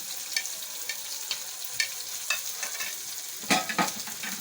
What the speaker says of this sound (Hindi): साथ ही हम इसमें हरी मिर्चें शामिल कर देंगे।